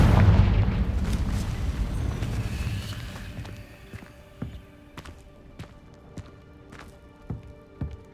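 A heavy blast from the Confringo fire spell in Hogwarts Legacy rumbles loudly at the start and slowly fades. Scattered light clicks and taps follow it.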